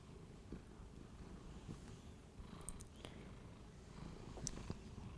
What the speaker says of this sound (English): Can you hear him purring?